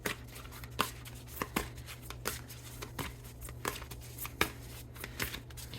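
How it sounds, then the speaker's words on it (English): Tarot cards being shuffled by hand, a run of crisp, close riffling bursts and soft slaps repeating every half second or so, with no talking over them. "not the best shuffle now"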